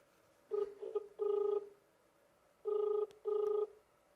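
An outgoing phone call rings on the line, two faint double-ring tones separated by a pause, steady and electronic with no one speaking.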